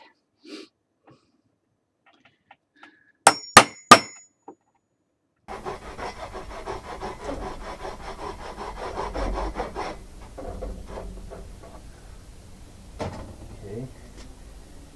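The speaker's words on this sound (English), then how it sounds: "I need to chisel out a little bit of the wood on the bottom." Three sharp hammer blows strike a chisel close by, then a long stretch of rough scraping and paring as wood is cut away from the bottom of a workbench.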